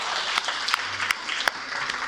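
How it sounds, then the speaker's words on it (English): Wedding guests applaud the newlywed couple, a dense, steady patter of many hands clapping with a few sharper claps standing out, brief and fairly close. "Everyone, give them a round of applause."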